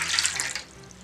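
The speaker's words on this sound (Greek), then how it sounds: "Νεράκι μέσα στο μπολ." Water running from a tap into a mixing bowl for chocolate bread dough, a steady close splashing hiss that eases off toward the end.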